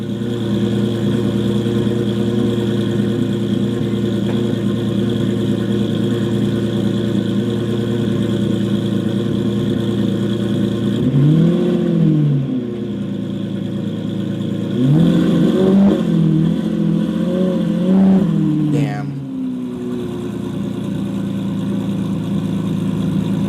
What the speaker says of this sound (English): Just let the car warm up